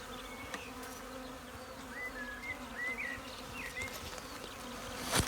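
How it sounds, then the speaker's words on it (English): Honeybees buzz steadily around a bait hive set about five feet high near a medlar tree, a dense close hum of many insects with individual bees droning past, no talking. "You'll see lots of bees"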